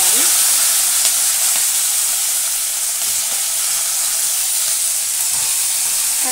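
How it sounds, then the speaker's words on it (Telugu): Green chillies frying in oil with cumin, mustard and coriander seeds, giving a loud, steady, close-up hiss and crackle that continues without a break. No speech. "పచ్చిమిర్చి దాంట్లో వేసేస్తున్నాను. నిమిషాలు బాగా వేగనిచ్చాలి."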